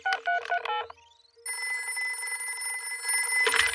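A telephone in a cartoon is dialed with a quick run of bright keypad tones, then a short pause before a steady electronic ringing tone, loud and close, with no speech.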